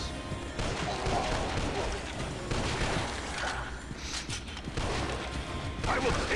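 Gunfire in the mobile zombie shooter Dead Trigger 2 as rapid shots, crashes and impacts pile up in a loud continuous barrage, with a voice briefly audible under the din.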